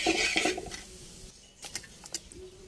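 A spoon stirs fish curry with crushed green pepper in a cooking pot, giving a few scraping and clinking touches against the metal, close and fairly quiet, with no voices.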